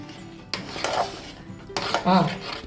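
Spoon scraping and clinking against a pan while ghee-fried dry fruits are stirred into gudanna, a few sharp metallic knocks and rubbing strokes at close range.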